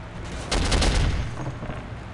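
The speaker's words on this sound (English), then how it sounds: "I may have shot a cop there" Gunfire in the video game Soldier of Fortune as a cop is shot, a rapid burst of several loud close shots and then a rumbling tail.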